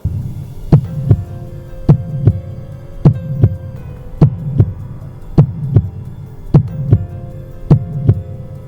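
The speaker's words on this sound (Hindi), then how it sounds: "मेरा दिल तेजी से धड़कने लगा" A fast heartbeat sound effect: a steady run of paired thuds, about thirteen beats, loud and close over a low throbbing hum, with no voices.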